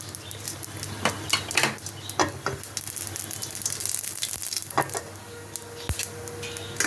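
Whole dried chilli, bay leaf and radhuni seeds sizzle in a small amount of hot oil in a pan, a steady crackling hiss broken by sharp spits and a few light clinks of a spoon against metal.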